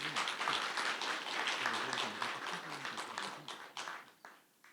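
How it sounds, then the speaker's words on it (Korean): An academic conference audience claps steadily for several seconds, the dense applause thinning out and fading toward the end. "다시 한번 싱하이밍 대사님께 큰 박수 부탁드립니다."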